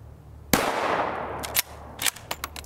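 A bolt-action rifle with an Oryx chassis, a 1-9 twist barrel and a TC compensator fires 5.56x45mm 77gr MK262 ammunition outdoors. One sharp, loud shot rings out with a decaying echo, followed by clicks and clacks as the bolt is worked.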